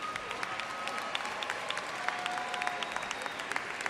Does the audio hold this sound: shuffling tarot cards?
no